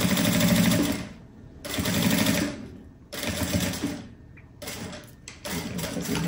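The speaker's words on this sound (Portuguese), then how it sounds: "E eu vou costurar até lá no finalzinho." A sewing machine stitches the lining of a backpack in loud, close bursts of rapid whirring, about four runs separated by brief pauses.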